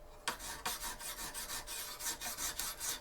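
A knife blade is drawn across a Lansky sharpening stone in quick, even strokes, about a dozen close rasping passes in steady rhythm.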